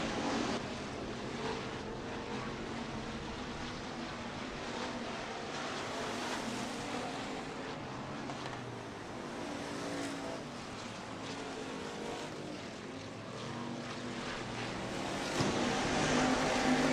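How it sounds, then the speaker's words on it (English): Race cars run hot laps at a dirt track before their heat races, and a continuous engine roar rises and falls at a distance as they circle, swelling louder near the end. "cars are getting hot laps right before their heat races"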